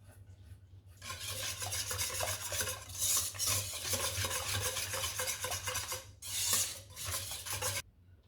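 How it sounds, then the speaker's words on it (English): Eggs whisked with chopped parsley in a bowl make a fast, steady rasping swish that runs close and loud for several seconds, with a short pause before resuming. "Add in the chopped parsley and give it another little whisk"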